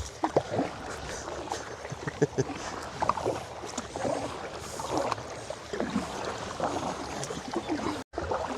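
A motorboat pulls away from a slipway at full throttle, giving a steady, loud broadband roar mixed with rushing water and wind buffeting for about eight seconds.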